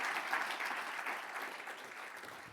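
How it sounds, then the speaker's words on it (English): Applause from the audience at a school board meeting, a soft, distant wash of clapping that holds steady for a couple of seconds and then starts to fade. "If we can give them a round of applause"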